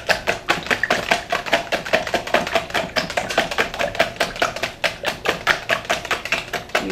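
Eggs being beaten up briskly in a bowl, a fast steady clatter of repeated taps close by, with no talk over it.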